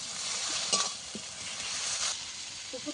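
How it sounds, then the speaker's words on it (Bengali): Spice masala sautéing in a pan for a fish curry, a steady close sizzle and hiss broken by occasional stirring scrapes and a faint clink, with no talking. "মশলাটাকে ভালো করে কষিয়ে নিতে হবে"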